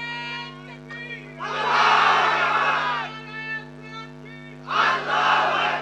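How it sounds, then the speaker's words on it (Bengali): A large crowd at an outdoor Islamic sermon gathering shouts the takbir in two loud, sustained roaring waves over a steady electrical hum from the sound system. "একটা তাকবীর দেন তো পিছন থেকে দেখি।"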